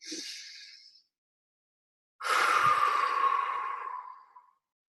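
Two slow, deep breaths are heard up close: a short inhale, a pause, then a longer, fuller exhale trailing off, with no talking.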